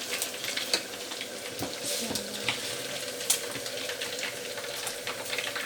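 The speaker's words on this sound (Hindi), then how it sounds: "तेल डाल के प्याज डाल लिया। अब हम इसको हल्का सा गोल्डन करेंगे।" Onions fry in oil in a pan for turnip chicken (shalgam gosht), giving a quiet, steady sizzle with a few faint clinks.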